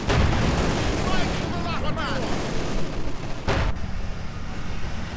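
Artillery strike in the real-time strategy game Company of Heroes 2, a dense rumbling barrage with a sharp blast near the end, under continuous battle noise.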